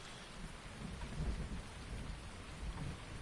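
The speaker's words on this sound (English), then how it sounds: "You guys hear that thunder?" Rain patters steadily in the Farming Simulator 19 video game while low thunder rolls faintly underneath, a quiet, continuous storm ambience with no voices.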